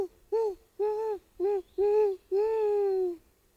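A person imitates an owl with five deep, tonal hoots, evenly spaced and close, the last one held longest, given before a snake is offered to a wild owl.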